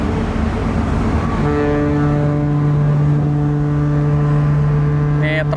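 Trucks are parked on the lower car deck of a moving ferry. A loud, continuous low engine drone with a strong humming tone fills the enclosed space, with some brief higher rattling near the end.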